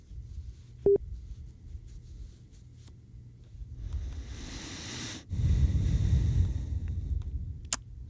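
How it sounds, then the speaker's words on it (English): Heavy breathing into a microphone at an amateur radio station running an Icom IC-9700: a soft, hissy exhale, then a louder, rumbling gust of breath blowing across the mic for a couple of seconds, with a short electronic beep near the start. "Hear me breathing, sorry."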